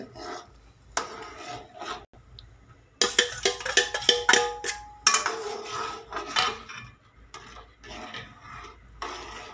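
Semolina being stirred in a pan for kesari, with scraping and rasping of the spoon against the metal in irregular bursts and short pauses, close and fairly loud, no talking.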